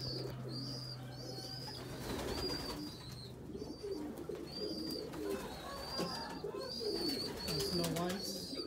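Soft, repeated cooing of pigeons in a loft with young birds, several low burbling calls overlapping, plus a few higher chirps and rustles, with a person talking quietly in the background.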